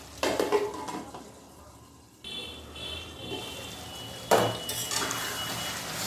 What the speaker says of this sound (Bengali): আমি আলু আর মশলাকে একসঙ্গে কষাবো ঢাকা দিয়ে দিয়ে